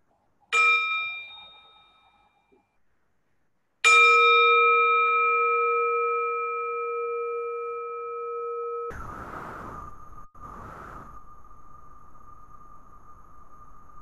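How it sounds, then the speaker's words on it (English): A meditation bell is struck twice, each strike ringing out clear and bright before slowly fading; the second tone sustains for several seconds before a soft background hiss takes over. "Let me invite a sound of the bell."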